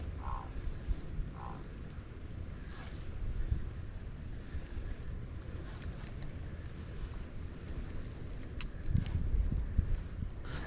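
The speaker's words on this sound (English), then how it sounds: "Man, the wind is really helping me here" Wind blows across a mangrove shoreline on Tampa Bay, a steady low rumbling buffet with a few faint clicks and splashes.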